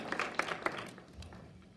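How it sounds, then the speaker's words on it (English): A church congregation applauding and clapping their hands together, fairly faint with scattered claps that peak early and then fade away. "Now let's give the Lord a big hand clap, can we?"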